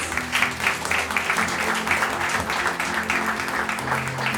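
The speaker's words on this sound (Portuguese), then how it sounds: "Vamos aplaudir o Senhor Jesus." A church congregation claps during a worship service, a continuous patter of many hands at moderate volume lasting several seconds, with faint musical tones and a low hum underneath.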